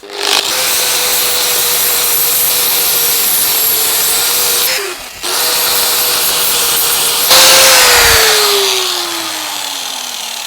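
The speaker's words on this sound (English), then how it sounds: "So I've got my new flap disc. Let's try and get rid of some of these deep grooves." A flap disc on an angle grinder grinds the deep grooves out of a Damascus steel knife blade. It gives a loud, continuous high-pitched whine and rasp, with a brief dip in the motor whine midway and a falling pitch near the end.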